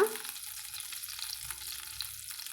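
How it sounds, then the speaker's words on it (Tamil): Mustard seeds tempering in melted butter for a chickpea sundal, giving a soft, steady hiss of fine crackles throughout, with no voices. "வெண்ணெய் உருகுனதும் நம்ம தாளிப்புக்கு கொஞ்சமாக கடுகு சேர்த்துக்கலாங்க"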